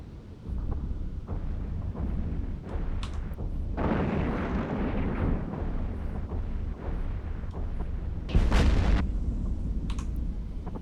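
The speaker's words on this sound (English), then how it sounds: "You can hear some explosions going on from my other client at the same time." Explosions in the space game EVE Online rumble under a continuous game soundscape, with a louder, sharper burst near the end and scattered booms throughout; no talk.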